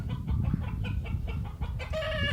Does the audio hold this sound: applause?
no